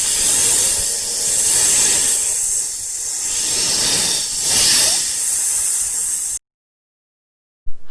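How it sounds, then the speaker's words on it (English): A snake hissing, given as an animal sound in a children's English lesson: steady, loud breathy hiss lasting about six seconds, swelling slightly in places, then cutting off abruptly into silence with no talk over it. "What's the sound of snake?"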